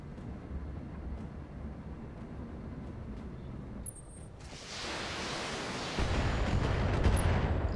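Battletech mechs fire their weapons at an enemy turret in a turn-based battle, a low rumbling wash that swells into a louder, noisy roar of weapon fire in the second half, with no voices.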